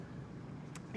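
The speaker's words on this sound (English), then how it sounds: "car starting close by" A car engine turns over and rumbles close by, a low steady mechanical drone filling the brief moment.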